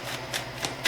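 Fairy oracle cards being shuffled by hand, three quick riffling bursts spaced about a third of a second apart, close and moderately loud over a faint background hiss.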